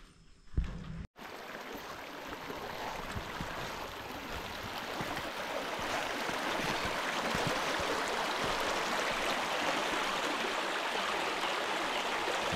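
A forest stream flows along a jungle trail near Ban Jo Si Der Nuea village in Mae Sariang, Thailand. After a brief quiet moment, a continuous close babble of water sets in and builds gradually.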